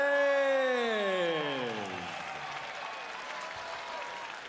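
Arena crowd applause and cheering after the unanimous decision in the Magomed Abdusalamov vs. Mike Perez heavyweight bout, opening under a drawn-out announcer's call and then settling into a steady wash of clapping.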